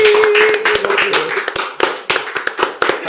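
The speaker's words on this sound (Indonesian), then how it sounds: "Wede, tepuk tangan dong." Scattered clapping from a small studio audience at a film talk, with irregular sharp hand claps thinning out over a few seconds and a voice murmuring underneath.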